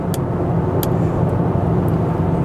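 An Audi SQ8 cruises on a highway in efficiency mode with its sound actuator off, giving a steady broadband rush of road and wind noise and only a muted engine hum, with a few faint higher ticks.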